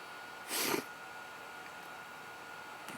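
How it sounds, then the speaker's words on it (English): A person sniffling with allergies: one sharp, close nasal sniff near the start and a fainter one at the very end, over a steady background hum. "Sorry for the sniffles."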